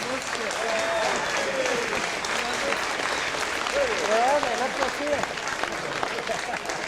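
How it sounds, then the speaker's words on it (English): An audience at a mountain biking panel discussion gives a sustained round of applause, steady dense clapping throughout, with some voices and cheering mixed underneath. "So I think we should give them a round of applause."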